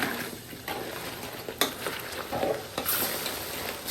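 Crab, mussels and shrimp with sweet corn fry in butter and garlic while being stirred, a steady close sizzle broken by scraping utensil strokes and a couple of sharp clinks against the pan.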